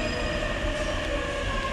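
A JR East train at Shinagawa station in Japan produces a continuous steady rumble with faint tonal whine, close and unbroken for the whole moment, with no voices.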